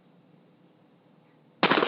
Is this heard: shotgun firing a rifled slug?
yes